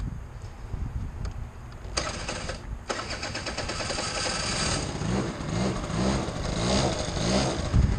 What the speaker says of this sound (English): It's a 2-stroke, so it's important to let it get a good warm-up in.